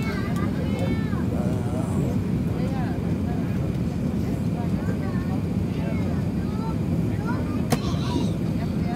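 A steady, loud roar of airplane cabin noise during landing in Dubai, a constant low rumble with a brief high whine, and someone talks over it.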